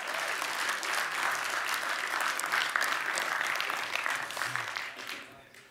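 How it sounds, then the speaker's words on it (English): Audience at a London smartphone launch event applauding, sustained energetic clapping with some crowd murmur, fading out over the last second. "let's give it a round of applause"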